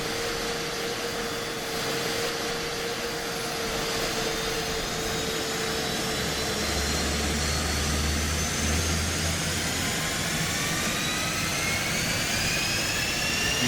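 An F-15E jet engine spooling up in the DCS flight simulator game, a loud continuous roar and whine that rises steadily in pitch over several seconds, with a low rumble swelling midway.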